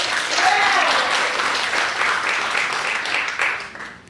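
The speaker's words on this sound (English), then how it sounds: "So please, another round of applause for Elijah" An audience applauds a panelist with a brief burst of dense clapping that holds steady and then tapers off near the end.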